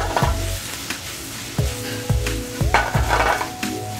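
Onions and sauce with salt and stock cook down in a hot pan, a steady sizzle broken by several hard knocks and scrapes of a utensil against the pan, close and fairly loud.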